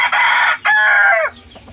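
White Kelso gamecock rooster crowing twice, loud and close, two long bright cock-a-doodle-doo calls with a brief gap between them, then quiet.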